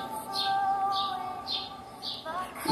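A small bird chirps outdoors in repeated high, bright bursts at a steady pace over a continuous tonal background hum.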